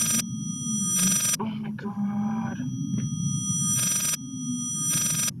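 A telephone rings in a horror video game, sounding as repeated bursts of electronic ringing separated by gaps, over a low droning hum with faint voices in the background.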